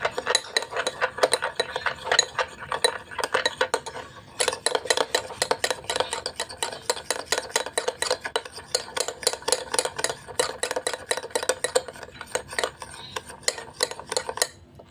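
A spoon stirring a coconut oil and shampoo mixture in a bowl, fast rhythmic clinking and scraping strokes, close and fairly loud, briefly pausing then continuing, no talking.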